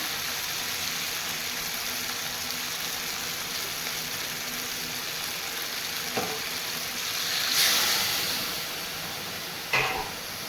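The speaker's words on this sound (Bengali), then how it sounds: "ধনে গুঁড়ো শুকনো লঙ্কা গুঁড়ো আর তরকারি এই ভালো করে কষে নিচ্ছি" A spiced curry with ground coriander and dried chilli powder fries in a pan, giving a steady, even sizzle with a couple of soft scraping stirs and a louder flare of hiss near the end.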